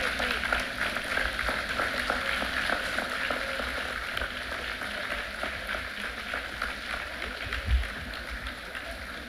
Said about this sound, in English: please stand up and give these wonderful students a round